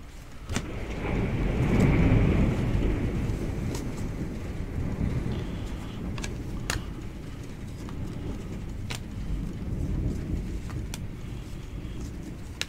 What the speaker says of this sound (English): Get back home and it's raining.